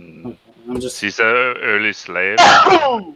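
A single sharp sneeze bursts out near the end of a short stretch of indoor conversation, loud and close, with voices talking before it.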